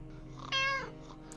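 A single short cat meow sounds in the 60 Seconds video game, clear and fairly close over a quiet steady background hum, with no voices.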